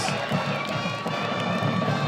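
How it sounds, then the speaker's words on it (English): Wild cheering from a high school varsity football student section, a dense, continuous roar of shouting voices that stays loud and steady throughout. "The student section is going insane. The crowd has gone wild."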